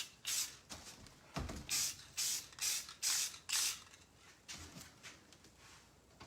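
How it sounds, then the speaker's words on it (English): Rust-Oleum Painter's Touch clear matte spray paint hissing from an aerosol can in a series of short bursts, roughly a dozen quick sprays in an irregular rhythm with brief pauses, close and fairly quiet. "hit it with some spray."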